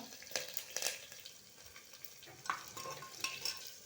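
Asafoetida, green chillies and curry leaves tempering in oil over a low flame, a soft, steady sizzle with a few louder crackles and scrapes scattered through.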